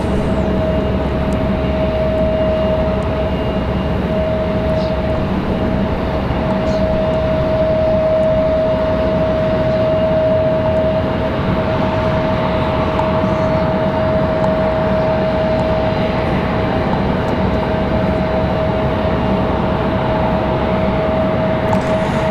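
A Frontier Airlines jet departs Raleigh-Durham airport, its engines producing a loud, unbroken roar with a steady tonal whine held throughout, heard from a distance without any change in intensity.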